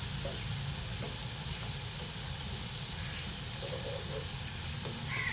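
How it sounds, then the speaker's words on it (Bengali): Amriti jalebi deep-frying in oil over a low to medium flame gives a steady, even hiss of bubbling oil with faint clinks, continuous and close throughout. "লো টু মিডিয়াম ফ্লেমে ভেজে নেবেন"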